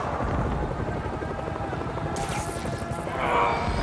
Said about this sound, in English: How are you stealing a chopper?